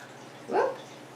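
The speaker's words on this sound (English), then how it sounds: "we're going to pour that in the vase" A liquid mixture of water and ingredients poured into a vase for a Phalaenopsis orchid, a brief splashing glug lasting under half a second against a quiet room.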